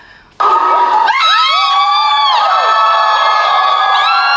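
After a brief quiet moment, an audience erupts into loud, sustained screaming and cheering with high shrieks and whoops, staying intense until the end.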